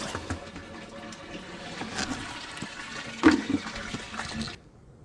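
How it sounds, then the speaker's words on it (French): Water sloshes and splashes as it is poured from a bucket into the tank of a water-curtain glazing booth, a steady running pour with a brief louder splash midway before it stops. "Donc je finis de remplir avec un seau."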